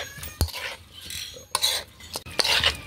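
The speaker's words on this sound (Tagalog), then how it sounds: "At haluin ko mga idol." A utensil stirs food in a pot at close range, producing irregular scraping and clinking bursts with sharp metallic knocks between quieter gaps, and no talking.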